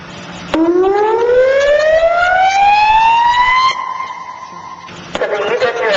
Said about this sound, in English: when the system is sounded, the alarm will sound first, getting one's attention